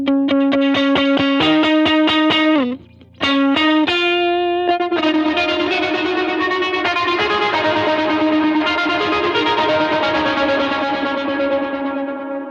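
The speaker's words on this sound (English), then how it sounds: "So that sound is just trim, really, really deep, intense trim, set to the tempo of the song, 16th notes." An electric guitar run through deep, intense tremolo synced to 16th notes plus chorus, starting with rapid pulsing chopped notes, then a brief dropout before sustained, shimmering, wavering chords ring on loudly.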